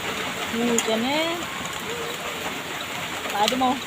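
Steady hiss of rain falling in Kefa, Indonesia, with faint bird calls chirping intermittently over it.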